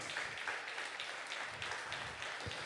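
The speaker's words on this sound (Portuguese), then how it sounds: "Você pode dar uma salva de palmas para o Senhor Jesus" A church congregation applauds in a soft, scattered patter of hand claps that carries on evenly, fairly faint and somewhat distant.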